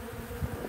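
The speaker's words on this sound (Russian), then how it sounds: "Сережки облеплены пчелами." Bees swarm over pollen-laden Garibaldi hazelnut catkins, a close, continuous buzzing hum of many insects with no voices.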